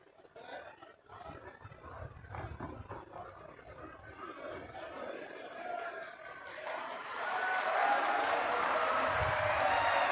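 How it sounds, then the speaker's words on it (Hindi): A crowd at a youth Agniveer dialogue event in Dehradun applauds to welcome the chief minister, scattered claps and murmurs at first that swell into loud, sustained applause over the last few seconds. "माननीय मुख्यमंत्री जी का स्वागत तालियों के साथ।"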